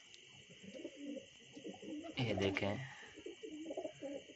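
A pigeon gives a short throaty coo midway through while someone talks nearby, two pigeons fighting over space, a steady hum running underneath.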